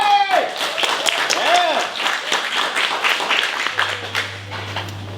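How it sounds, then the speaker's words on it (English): An audience at a business breakfast event applauds a presenter, with steady clapping alongside whooping voices and cheers, then a low electronic hum comes in near the end. "Big applause!"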